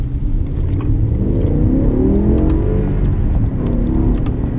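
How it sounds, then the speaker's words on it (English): A car pulls away in gear and accelerates, its engine note rising steadily and loud throughout, with tyre and road roar beneath and no voices. "So we're going to drive off."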